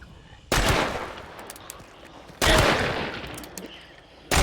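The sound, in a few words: revolver gunshots in video game Hunt: Showdown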